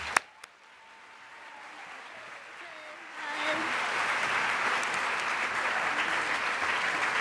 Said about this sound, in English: we all owe her a round of applause